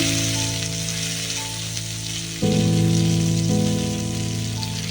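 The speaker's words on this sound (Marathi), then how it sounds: "आणि आता आपण दुसरी साईड पण अशी भाजून घेऊया पलटी करून" Surmai (kingfish) pieces fry in oil with a steady, loud sizzle that swells abruptly midway as the pieces are flipped to the other side.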